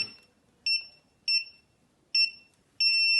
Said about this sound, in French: il y a eu déclenchement du buzzer